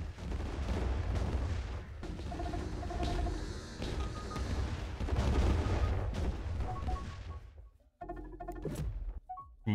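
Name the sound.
bombard fleet firing on a colony in video game Distant Worlds 2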